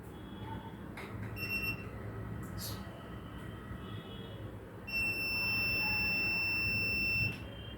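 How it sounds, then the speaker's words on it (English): A homemade buzzer alarm fitted to glasses beeps in short high tones at first, then sounds one steady loud tone for about two seconds over a background hum. "The buzzer was loud enough to wake you up."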